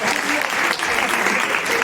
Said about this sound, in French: On peut tous l'applaudir, bravo.